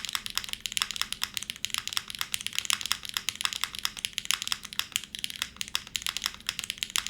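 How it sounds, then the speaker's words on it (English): Fast, continuous typing on a loud custom-built mechanical keyboard, sharp clacky keystrokes rattling close up in a rapid, uneven stream with no voices. "It's a really loud keyboard, yeah."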